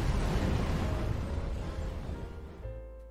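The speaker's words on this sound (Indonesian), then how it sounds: "terpental karena ledakan dari tumpukan bom molotov" A pile of molotov bombs goes off in a loud, deep blast that rolls on as a heavy rumble and slowly fades over about three seconds.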